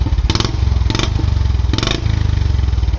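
A 2022 BS6 Royal Enfield Bullet Standard 350 fitted with a narrow-mouth aftermarket exhaust, catalytic converter still in place, thumps at a loud, steady idle close by, with three short bursts of revving.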